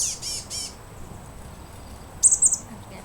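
Birds give a few sharp high squawks at the start, then a short burst of bright chirps near the end, close and loud over quiet background.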